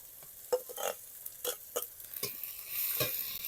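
Ginger and cumin paste being stirred into frying onion and tomato for a rural egg chop curry, with soft sizzling and several distinct scraping stirs in the pan, quiet and close, no voices.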